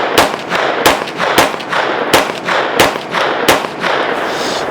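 Rapid 9mm submachine gun shots from a Scorpion or MP5, about eight loud sharp cracks spaced roughly half a second apart, each with a short ringing tail, outdoors and close.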